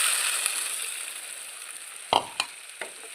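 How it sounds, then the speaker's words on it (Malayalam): Mustard seeds and dried red chillies sizzle in a small pan of hot oil on a gas stove, a steady crackling hiss broken by a few sharp louder pops near the end. "കാച്ചാനായിട്ട് ഒരു പാൻ ഗ്യാസിൽ വെച്ച് ഒരല്പം എണ്ണ ഒഴിച്ച് കടുകും വറ്റൽമുളകും ഇട്ടിട്ടുണ്ട്."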